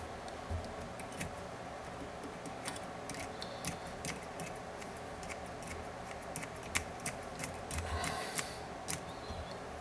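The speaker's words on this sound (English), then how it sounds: "I'm going to trim it off just a little bit." Small scissors trim fly tying material, faint scattered snips and clicks that come close together in a quiet room.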